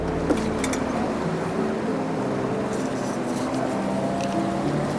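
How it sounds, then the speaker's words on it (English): A steady low mechanical hum of an RV water pump drones throughout, a continuous motorized running sound with faint background noise, fairly close and even in level. "Okay, I can hear the pump running."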